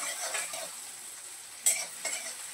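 Chopped green onions are sautéed in a pan over a gas flame, giving a soft continuous sizzle with a few sharp spatula scrapes and clinks against the pan.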